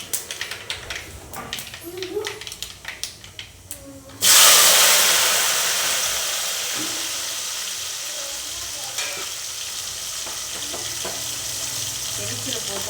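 Onion and garlic go into hot oil in a pan for a bitter gourd kuzhambu. A sudden loud sizzle bursts in after some clattering and stays as a steady hiss, close and strong.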